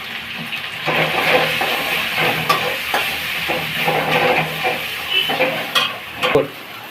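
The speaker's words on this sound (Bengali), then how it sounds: "দিয়ে নাড়াচাড়া করে যতক্ষণ তেল না থাকছে মশলাটাকে কষিয়ে নিচ্ছি।" Spice paste fries in oil with salt, turmeric and sugar while being stirred, giving a steady close sizzle broken by repeated scraping strokes and light clinks, with no talking.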